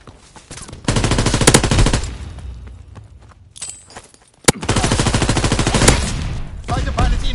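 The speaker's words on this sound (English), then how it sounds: "Fighter pilot inbound, strafing the target." A fighter aircraft strafes a target in a combat video game, heard as loud rapid machine-gun bursts with a brief lull between two long runs of fire.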